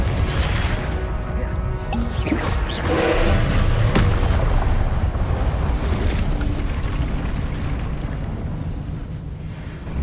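Repeated booming blasts of the Confringo fire spell in the game Hogwarts Legacy on PS5, loud and continuous, layered over dense in-game combat noise with several heavy impacts.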